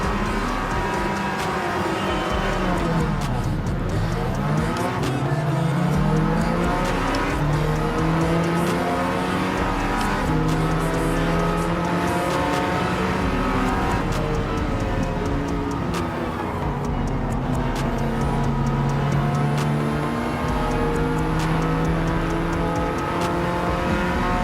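A road car in Gran Turismo 7 drives hard, its engine revving up and down through repeated gear changes in sweeping rises and falls, loud and constant throughout.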